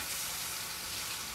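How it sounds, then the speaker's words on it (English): Seasoned beef sizzles steadily in a hot pan as it browns for birria tacos, a dense, even hiss close by with no talk. "So I'm gonna brown that on both sides."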